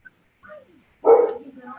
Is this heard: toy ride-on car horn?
no